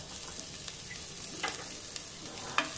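Sweet corn, garam masala and salt stirred together in a pan on low flame for pulao, a soft steady sizzle with scraping strokes and a couple of spoon knocks, close by with no speech.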